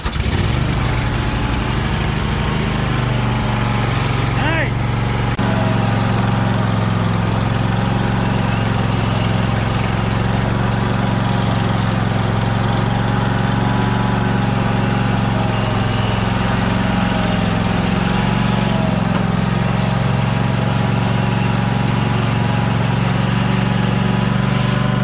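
A riding lawn mower engine cranks over and catches, then settles into a loud, steady, close running drone with constant vibration for the rest of the stretch, with no talking.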